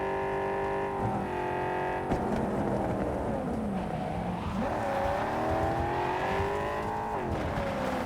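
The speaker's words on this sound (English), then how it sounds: "The engine on this thing is pretty loud." Loud car engine in the video game Cyberpunk 2077, a close roaring motor with rising and falling revs and gear changes, heard alone without speech.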